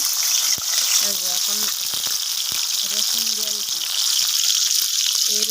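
Chopped garlic fries in hot oil in a home kitchen, giving a loud, steady sizzle throughout, with faint voices coming and going underneath.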